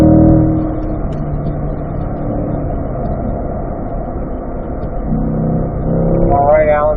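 A car on a race track hot lap, shifting back to fourth gear and running straight down a drop, its engine droning steadily and then building in revs near the end, loud and close.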